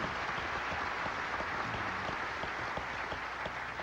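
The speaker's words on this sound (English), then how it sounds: "Can we have a round of applause for them, please?" Audience applause at a groundbreaking ceremony, a steady wash of many hands clapping that fills the whole stretch at even loudness, with no voices rising above it.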